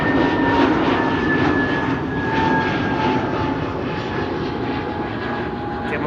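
An Air Malta Airbus A320neo jet passes at Amsterdam Schiphol Airport with a steady, fairly loud engine roar and a high whine that stays steady throughout.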